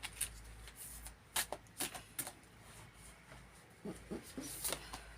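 Cards being shuffled and pulled from an oracle deck during a reading, soft papery riffles and slides in several quick bursts, fairly quiet and close with no talking.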